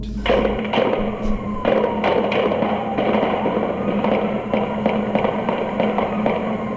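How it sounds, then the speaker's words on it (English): Gunfire in a street shootout, sharp cracks and thumps going off in rapid irregular bursts of many shots, moderately loud over a noisy background with no talk. "That's a lot of bullets."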